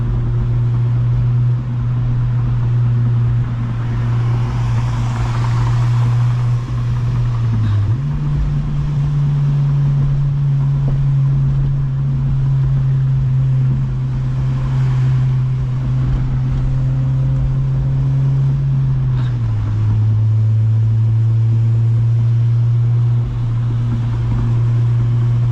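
An 8th gen Honda Civic Si driving in the rain, heard from inside the cabin: a steady engine drone that shifts pitch partway through, with a constant wash of road and rain noise and no talking.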